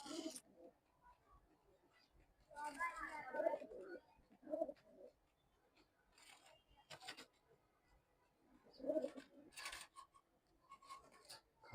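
A khaki pigeon gives soft, faint coos in short bursts, separated by quiet pauses, with some rustling close by.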